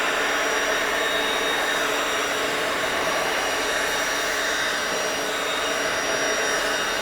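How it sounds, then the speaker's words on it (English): Air blower running steadily on a Tesla Model X headlight wrapped in SunTek paint protection film, a loud continuous whooshing roar that holds level throughout with no talk. "So now I'm going to grab the blower. We're going to blow this out real quick"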